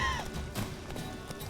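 Roach, Geralt's horse in The Witcher 3: Wild Hunt, clip-clops and shifts about close by, with a brief whinny-like call over a dense game soundscape.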